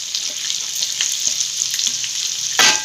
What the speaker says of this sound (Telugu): ఇది కొంచెం సాల్ట్ వేసి వేయించుకోవాలండి